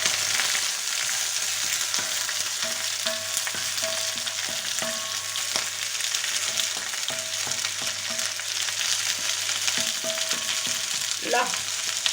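Paella fries in a pan with a steady, even sizzle close by, broken now and then by faint clicks and stirring.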